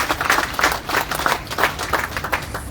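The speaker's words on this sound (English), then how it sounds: "A huge applause to the national security." Audience applause at a formal UN Day celebration in Liberia, loud rhythmic clapping with bursts roughly every half second, close and sustained throughout.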